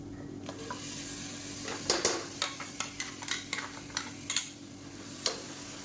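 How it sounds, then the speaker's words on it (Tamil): Blended tomato puree is stirred and sautéed in hot oil in a pan for a Tamil kuzhambu, with a soft sizzle under a series of light scraping and clinking strokes from a utensil. "இதையும் சேர்த்துட்டு நல்லா எண்ணெய் புரிஞ்சு வர அளவுக்கு நல்லா வதக்கி விட்டுக்கலாம்"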